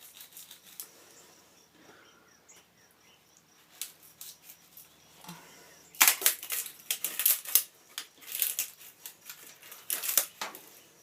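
Knife cutting through a very light, soft wood, heard as a run of close, crisp scraping and cracking strokes in bursts, quiet at first and growing louder in the second half, with no talking.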